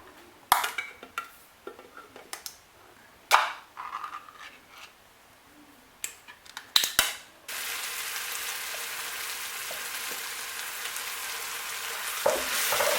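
Prepared palm fruits go into a pot for banga soup, with several sharp clanks and knocks of utensils against the pot, then a sudden steady frying sizzle that holds to the end.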